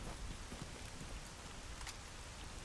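Rain in the video game STALKER Anomaly GAMMA falls as a steady, faint hiss of drops, an even wash of sound with no voices.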